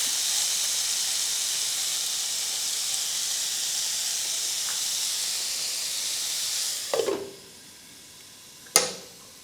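Bitter gourd frying under a lid on low heat gives a steady, close steam hiss. It cuts off abruptly near the end, followed by a couple of sharp clanks of the lid or pan.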